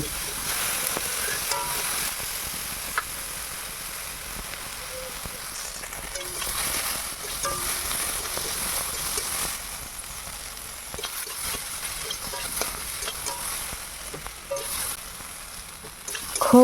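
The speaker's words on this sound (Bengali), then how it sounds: "দেখো, আমি ভেন্ডিগুলোকে ভেজে নিচ্ছি।" Okra tossed with salt and turmeric fries in a pan with a constant close sizzle and occasional stirring scrapes that run the whole time without letup.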